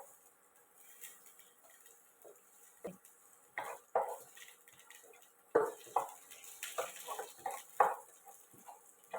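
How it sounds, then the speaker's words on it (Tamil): Onions sautéed and stirred in a pan for a Tamil-style fish curry, a quiet sequence of scattered scraping and clinking spoon strokes against the pan that grow busier toward the end, with no talk. "இப்போ இது நல்லா வதக்கி விட்டுக்கணும்"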